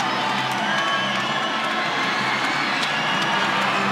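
Volleyball arena crowd at a Wisconsin vs. Penn State match cheering and shouting in reaction to replays, a dense, sustained roar of voices with scattered whoops.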